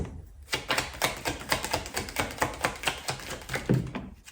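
Tarot cards being shuffled and drawn, a quick run of crisp, rhythmic taps and flicks repeating steadily at close range with no voices.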